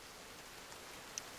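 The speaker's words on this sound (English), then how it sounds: "Oh, boy, it's raining out" Rainfall in the survival game The Forest, a faint, even hiss of steady rain with a tiny click near the end, no talking.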